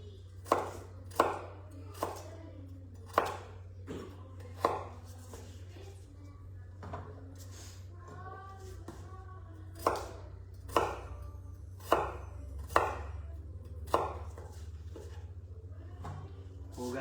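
A kitchen knife chops carrots into triangles on a board, making sharp, fairly regular thuds, about fifteen in all, with a short pause midway over a low steady hum.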